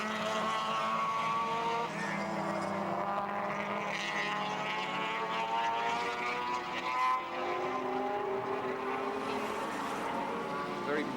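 Touring race cars at Surfers Paradise in 1983, one leading with another chasing closely and a lapped car between them, engines droning steadily near and loud with shifting pitch throughout, a commentator's voice running over the noise.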